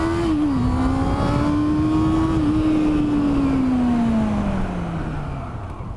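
A Honda CB400 motorcycle engine revs up loud and steady, its pitch holding high and then sliding slowly downward as it eases off, with no talk over it.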